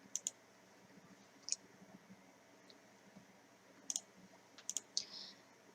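Computer mouse clicks during a basic computer class, sharp faint single and double clicks scattered irregularly over a quiet room with low background hum and no talking.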